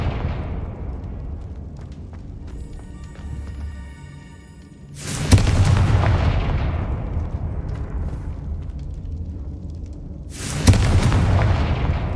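Two loud fiery blasts from the Confringo explosive spell in Hogwarts Legacy, each hitting with a sharp crack and then a long roaring rumble that fades slowly, with the second one coming about five seconds after the first.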